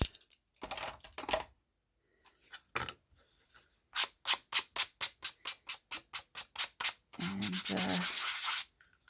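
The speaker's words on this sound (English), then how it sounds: "Good old sanding block." A sanding block rubs along the edges of a handmade cabinet card, giving rough scraping strokes that turn into a quick run of short rhythmic rubs and end with a longer grinding pass.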